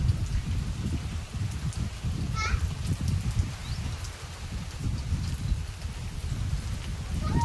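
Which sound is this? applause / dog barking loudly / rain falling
rain falling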